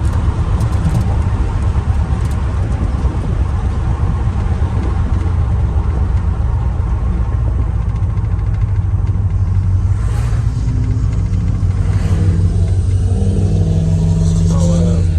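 An R10 truck with a swapped carburetor engine rumbles and revs loudly in a sustained, throaty drone while attempting a burnout, with voices talking over it.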